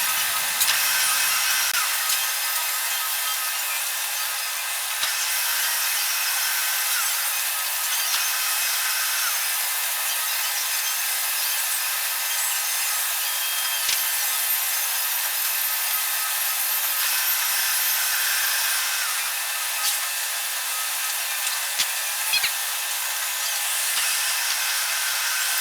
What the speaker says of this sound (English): We're back in the horizontal bandsaw again, and this time here we're cutting the big